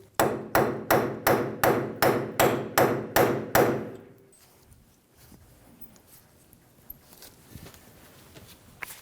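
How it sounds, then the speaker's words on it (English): A hammer strikes a punch to drive the axle through the wheel hub of a 2005-2015 Toyota Tacoma, about a dozen loud, evenly spaced metallic blows, followed by faint scattered clicks and handling noises. "use a punch and a hammer and punch it through"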